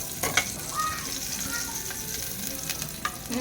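Ingredients for sinigang with canned mackerel sizzling in a hot pan while being stirred, a steady frying crackle broken by a few scrapes and clinks of the utensil.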